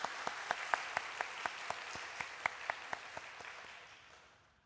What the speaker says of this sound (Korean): 우리 함께 박수합시다.